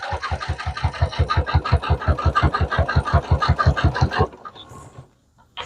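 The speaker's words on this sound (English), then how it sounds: "I'm going to sew forward a little bit" A sewing machine stitches forward along a fabric tube with a fast, steady mechanical chugging of evenly spaced strokes for about four seconds, then stops abruptly into near quiet.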